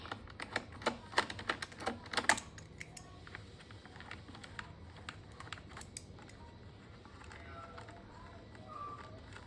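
An 8 mm wrench works the carburetor bolts on a Honda EU20i portable inverter generator, giving quick metallic ratcheting clicks and light taps close by, thinning to faint handling noise, with someone talking quietly throughout.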